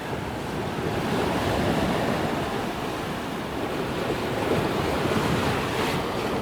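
Steady rushing wind and breaking waves heard aboard a sailing boat heading into Portishead. The roar is continuous and fairly loud, and no one speaks.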